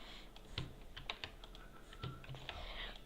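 A password being typed on a computer keyboard: quiet, uneven bursts of light key clicks, close by, with short pauses between runs of keystrokes.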